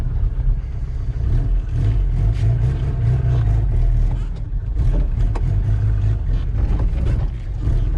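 A 2003 car engine being revved as its idle speed is raised, a loud steady low rumble that rises and falls over the whole stretch, with a voice heard briefly underneath.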